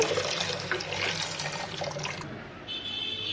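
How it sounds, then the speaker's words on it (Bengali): Lentils being washed under a running kitchen tap, a continuous splashing and gurgling water stream close by for a few seconds, briefly thinning before the flow resumes. "তো ডালটা ধুয়ে নিচ্ছি ভালো করে"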